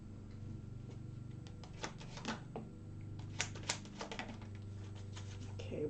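Playing cards drawn and laid out from a deck for a patience game, a run of light ticking and tapping card sounds over a steady low hum, close and soft, with a voice speaking.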